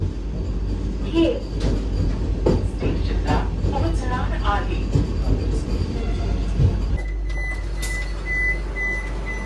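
A Vande Bharat Express train rumbles steadily with a low, continuous drone and rattling, while people talk nearby; near the end the noise shifts and a few beeps sound.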